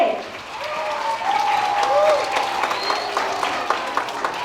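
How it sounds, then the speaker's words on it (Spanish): An audience at a children's school Christmas performance of The Nutcracker applauds warmly, a steady wash of clapping from a crowd with voices rising briefly above it. "Un fuerte aplauso para Andrea Suárez."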